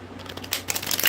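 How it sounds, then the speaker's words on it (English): Playing cards are butterfly-shuffled, a quick series of crisp riffling flutters and soft slaps up close, with no talking over it. "let me get some of these butterfly shuffles in"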